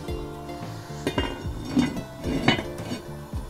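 Lid placed on a cooking pot of veal blanquette, a few metallic clinks and clanks of metal cookware at close range against a low background hum, with no speech.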